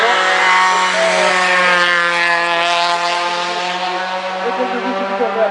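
A Peugeot 205 rally car drives past during a rally stage, its engine note droning loud and steady with strong harmonics throughout, easing slightly toward the end.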